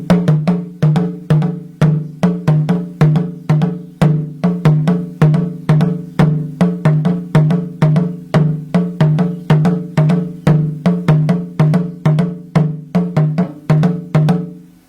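Two interlocking percussion strikes play five against four in a steady, dry polyrhythm, with sharp repeated hits at a pitched, woody tone, loud and close with no voices.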